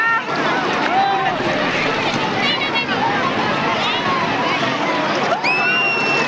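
Motorboats run fast across the sea off Digha beach, a steady wash of engine and water noise mixed with wind buffeting, while people talk loudly throughout.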